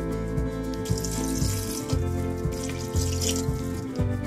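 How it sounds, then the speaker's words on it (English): Water poured into a pan of Punjabi bottle gourd curry, a steady splashing pour with rhythmic gurgling pulses, close and fairly loud, with no talking. "And now I'll be using around 1/2 cup of water in this."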